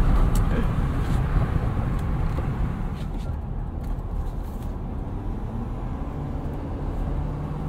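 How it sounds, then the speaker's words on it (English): A Ford F-250 truck's exhaust rumbles under a bridge, a loud, continuous low-pitched drone that swells slightly at the start and then holds steady. "Let's get a little bit of exhaust noise under this bridge."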